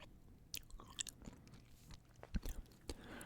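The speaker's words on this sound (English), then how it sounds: "obviously sound-wise you hear a lot of the sugar crunching" Sugar-coated Trader Joe's gummy candy chewed up close, with soft sticky bites and gritty crunches of sugar in a few uneven bursts against a quiet background.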